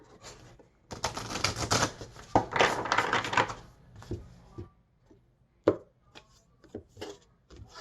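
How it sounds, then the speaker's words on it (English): Tarot cards are shuffled by hand in quick riffling bursts, then lighter taps and card slaps, close and fairly quiet, with no talking. "No, I'm gonna shuffle some more."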